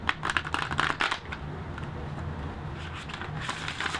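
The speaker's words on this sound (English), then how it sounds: "I'm going to shuffle these to see how they shuffle." Large oracle cards being shuffled by hand, a quick crackling burst of riffled cards at first, then softer papery shuffling that continues at lower volume.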